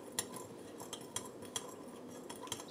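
Vinegar and sugar being vigorously stirred together for sushi rice, with quick, faint clinks and scrapes of a utensil against a bowl coming in an irregular rhythm.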